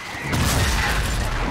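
A grenade explodes in a Call of Duty: Modern Warfare firefight, a short, loud, broad blast that swells quickly and holds as a rough, sustained roar.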